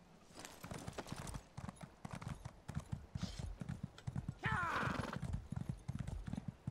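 A horse gallops and jumps over a table in Elder Scrolls Online, its hooves beating fast, near clip-clops, with a brief whinny in the middle and a soft voice talking underneath.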